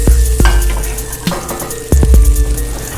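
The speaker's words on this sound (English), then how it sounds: "We're gonna fry off our root veg, just containing parsnips, as well as sweet potatoes and carrots" Parsnips, sweet potatoes and carrots fry in a hot pan with a steady sizzle, punctuated by several sharp clanks of a utensil against the pan as the root vegetables are stirred.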